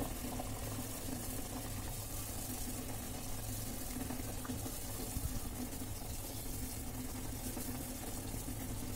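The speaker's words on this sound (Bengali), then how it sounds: "জলটা ফুটতে লেগেছে, এই হাই ফ্লেমে রেখে দেব।" Water in a pot over a high flame, boiling for rasmalai, with a soft, steady bubbling and roiling hiss that holds even throughout and sounds faint.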